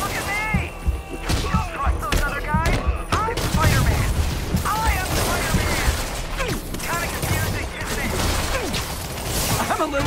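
Spider-Man PS4 video game battle with scattered gunfire and impacts among whooshes and mechanical clatter, busy and loud throughout, with character voices shouting over the action.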